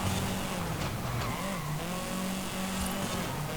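Supercharged Toyota engine in the Forza Horizon 5 racing game, a steady sustained drone with a held pitch that dips and shifts slightly, at moderate level throughout with no talk.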